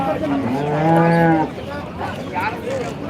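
A big cow at a cattle market lets out one long, loud moo lasting over a second, followed by quieter market noise and lowing in the background.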